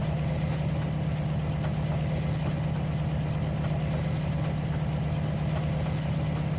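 A locomotive in the Trainz 2019 railroad game rumbles steadily as it motors off through a rail yard, a continuous low engine drone with a constant hum and no talk over it.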